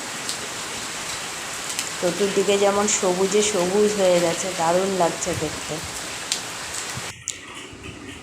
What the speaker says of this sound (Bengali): প্রচণ্ড বৃষ্টি সকাল থেকে হচ্ছে, মুষলধারে বৃষ্টি হচ্ছে।